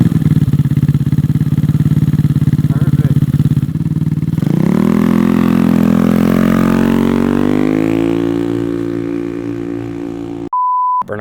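A 171cc GY6 engine in a Honda Ruckus scooter, fitted with a cam, idling loud and buzzy up close before revving up in a rising, sustained whine that slowly fades, then cut off by a short electronic beep.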